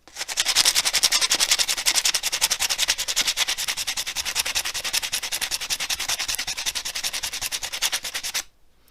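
Edges of a metal canteen cup lid being polished, a loud, close, steadily pulsing abrasive rubbing that repeats in rapid even strokes for about eight seconds, then stops abruptly.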